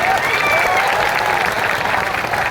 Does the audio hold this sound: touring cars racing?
no